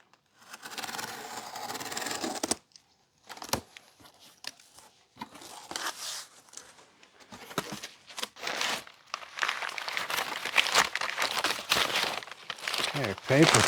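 Packing paper crumpled and rustled while a gift is unboxed, bursts of crinkling and tearing in irregular handfuls with brief pauses, close and fairly loud, with voices talking in between.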